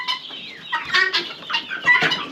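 Several young chickens, including black Siamoni birds, cluck and squawk in a farmyard flock. The calls come in quick, overlapping bursts, close and fairly loud, with no talking.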